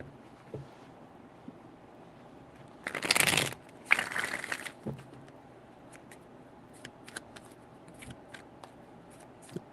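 A deck of tarot cards being shuffled in a quiet room: two brisk riffling bursts close to the microphone, followed by scattered light taps and card flicks.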